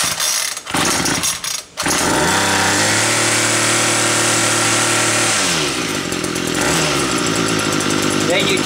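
A gas-powered string trimmer engine sputters, then catches and runs steadily at a loud, droning idle for several seconds before its pitch drops, with a voice faintly under it.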